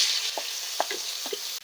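Green chilli and ginger paste hits hot oil in a pan for a village-style vegetarian raw banana dhoka, giving a close, short sizzle with a few soft stirring clicks.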